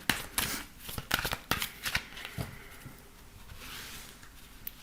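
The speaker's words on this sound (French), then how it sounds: "Alors, on va faire le tirage." Tarot cards shuffled by hand for a reading, a series of close, crisp riffling bursts in the first half, then softer handling and quieter rustling toward the end.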